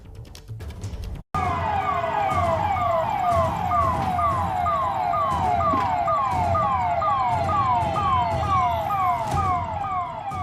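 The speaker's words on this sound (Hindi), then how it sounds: "पुलिस का सायरन तेज है" A police siren blares loudly in a rapid repeating wail during a tense night of stone-pelting unrest in Jodhpur, starting abruptly after a second of street noise and continuing close and steady to the end.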